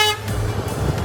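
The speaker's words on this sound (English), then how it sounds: "So this horn is louder than any vehicle I've ever driven." A single short, loud honk from the horn of a Polaris Gem e4 electric vehicle, close by, tailing off into road and cabin noise.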